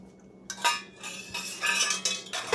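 Melted coconut oil scraped out of a pan with a utensil while making homestead granola, giving a few close, soft metallic scrapes and clinks in bursts, with no talking.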